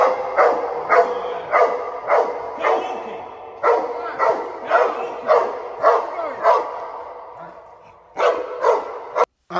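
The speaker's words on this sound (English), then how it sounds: "Activate your dog now." A police dog barks repeatedly during training, a loud, close series of evenly spaced barks with a few short gaps and a brief pause before the final barks.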